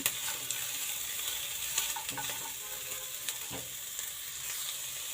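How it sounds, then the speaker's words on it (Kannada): Radish pieces fry in a pan with green chillies, curry leaves and onion, giving a steady broadband sizzle with occasional scraping clicks of a spatula, close and continuous with no talking. "ಈ ಮೂಲಂಗಿನ ಹಾಕ್ತಾಯಿದ್ದೀನಿ ಎರಡು ನಿಮಿಷ ಫ್ರೈ ಮಾಡ್ಕೋಬೇಕು"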